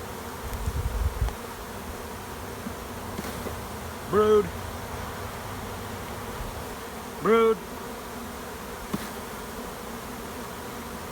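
Honey bees hum in a soft, steady drone around an open hive during queen rearing. A person speaks briefly twice over the buzz.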